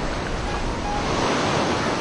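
Sea waves on the Colombo seafront in Sri Lanka, a continuous broad wash of surf with steady wind buffeting the microphone, no voices.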